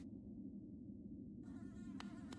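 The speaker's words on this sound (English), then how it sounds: "Oh, bees!" Faint, thin insect buzz of bees in the video game Hollow Knight, a low steady drone with a couple of brief clicks near the end, no talking over it.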